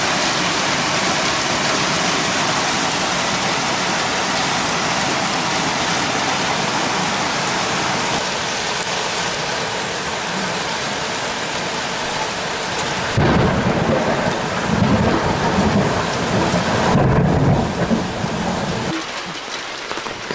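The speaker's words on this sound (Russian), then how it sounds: "Град опять." Heavy thunderstorm rain with hail pours down over a street and garden beds, a dense steady roar of falling water that swells into louder rumbling bursts of thunder near the end, with no talking.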